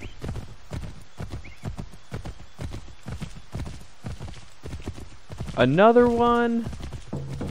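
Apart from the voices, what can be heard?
horse hooves clip-clop in Assassin's Creed 3 video game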